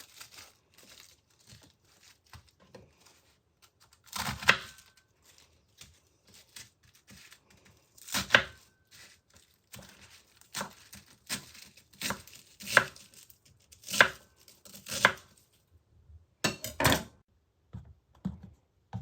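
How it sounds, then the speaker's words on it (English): A knife cuts baby gem lettuce in half and shreds it on a board. Loud, isolated thunks fall a few seconds apart among softer crisp slicing and leaf rustles, close up, with no talking. "Cut the baby gem lettuce in half and in half again and shred."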